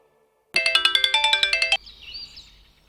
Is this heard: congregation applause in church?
no